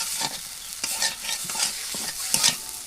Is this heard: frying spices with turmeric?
yes